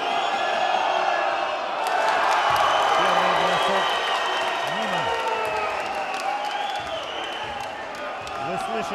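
A crowd in a basketball arena cheers and applauds steadily for several seconds in a roaring, reverberant hall, with a few ball bounces and a commentator talking over the noise.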